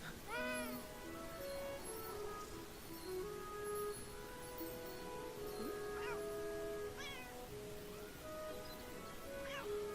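A cat in the video game Beyond Eyes meows repeatedly, several clear rising-and-falling mews spaced across the span, fairly close and distinct over soft ambient game sounds.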